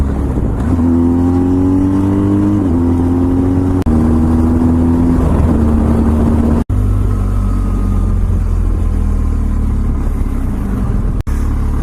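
BMW R1250GS motorcycle exhaust while riding, a loud, steady engine drone with rising pitch sweeps as it accelerates through the gears, continuous and close throughout.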